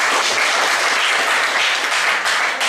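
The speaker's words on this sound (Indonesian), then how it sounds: "Tepuk tangan buat aku" A classroom of students bursts into loud, thick applause during a math lesson, a continuous wash of many hands clapping close by.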